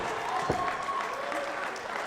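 A wrestling crowd at Turner Hall Ballroom claps and cheers in a diffuse wash, with a brief sharp burst partway through and a commentator's voice talking over the noise.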